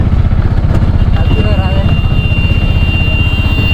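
An auto-rickshaw engine labors uphill in first gear on a road trip toward Manali, a loud, close, steady pulsing putter throughout, with a voice talking over it.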